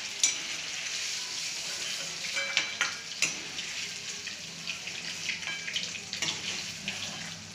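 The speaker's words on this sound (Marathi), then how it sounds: "याला 5 मिनिटांसाठी फ्राय करून घ्यायचं" Black-eyed peas frying in oil in a pan, a continuous sizzle with repeated scraping and stirring knocks scattered across the clip, close and fairly loud.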